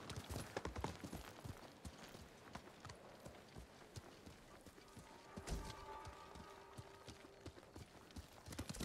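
Horse hooves clip-clop at a steady trotting rhythm in the video game Ghost of Tsushima, sharp and fairly close, with faint background ambience and no voices.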